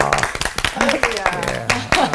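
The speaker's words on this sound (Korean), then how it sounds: "우리 한번 박수 한번 드립니다." A small church group claps briefly during a Korean Bible lecture on First Corinthians. The sharp, close, uneven claps are mixed with overlapping talk.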